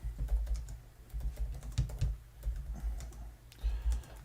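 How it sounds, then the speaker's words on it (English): Fingers type on a computer keyboard in quick irregular bursts of clicky keystrokes, close and fairly quiet, with pauses between runs. "I'm typing on the..."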